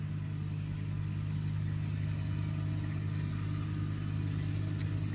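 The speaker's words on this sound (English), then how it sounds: "Got some local farmers out here cutting hay, riding by on the tractor." Farm tractor driving by during hay cutting, a steady low engine drone that holds at a constant level throughout, with broad hiss and no clear rise or fall.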